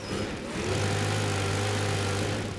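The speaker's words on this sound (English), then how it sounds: "Now we get the blower." A video game leaf blower runs steadily at close range, a continuous motor drone with a low engine hum that settles into an even, sustained tone after a brief start.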